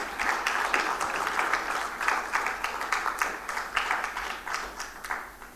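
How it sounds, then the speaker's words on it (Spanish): Church congregation clapping and applauding to the Lord during a Sunday sermon, a dense, fairly close wash of hand claps with rhythmic surges that gradually thin out near the end. "dele palmas al Señor"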